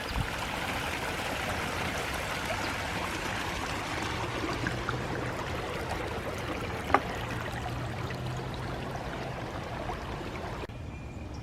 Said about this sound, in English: still getting a lot of rainwater runoff